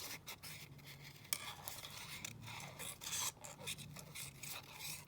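Paper pieces on coffee-dyed card being cut out with scissors, a steady run of close, soft snipping and rasping scrapes with no talking.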